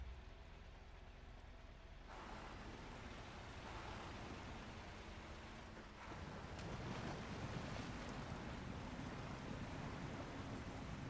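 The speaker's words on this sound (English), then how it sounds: "Oh, that creek is moving." Flowing creek water in the SnowRunner video game rushes steadily and evenly, growing a little louder partway through, with no talk over it.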